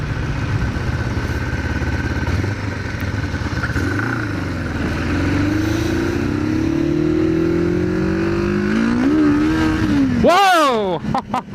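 An old motorcycle engine revs unevenly as its carburetors clear, building to a loud rising rev near the end before cutting back, with clatter and someone talking over it.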